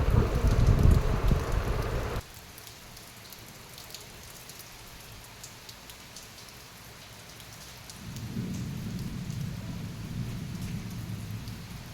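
Heavy morning downpour with thunder: a loud rumbling thunderclap opens, then steady dense rain hiss continues, swelling again into a low rolling rumble toward the end, with no talking.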